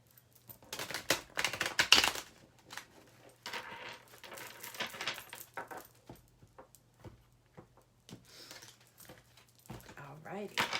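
Tarot cards are shuffled in short, crisp bursts of riffling and soft slapping, separated by quiet gaps, with a faint steady hum underneath.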